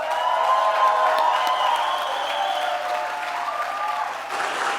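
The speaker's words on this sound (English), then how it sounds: "So let's give a big round of applause for Meredith." Audience applause with cheering at a tenth-anniversary benefit event for a South Bronx youth soccer organization; steady, dense clapping and whoops fill the room throughout, loud and continuous.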